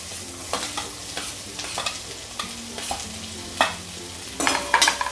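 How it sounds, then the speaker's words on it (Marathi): Onion added to a sizzling tempering of chilli and curry leaves in a pan for bread upma, with a steady sizzle and repeated scraping stirs, louder clatters toward the end. "फोडणी खमंग बसली की आपण कांदा टाकून घेऊ।"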